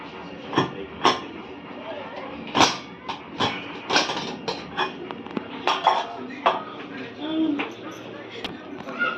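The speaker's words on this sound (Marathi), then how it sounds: "डाळ आणि भात शिजला आहे आता आपण कुकर खोलूया" A pressure cooker of cooked dal and rice being opened in a home kitchen, with metallic clanks and clinks of the lid and vessel heard close up among irregular knocks, a voice talking throughout.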